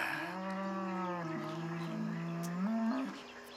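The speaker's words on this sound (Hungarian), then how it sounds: "Menj már, te ostoba tehén!" A cow gives one long, drawn-out moo that holds steady and then rises in pitch near the end, loud and close with no talk.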